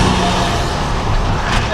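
A truck pulling three trailers roars past at close range on a desert road, giving a loud, steady, broadband rumble that fills the whole moment.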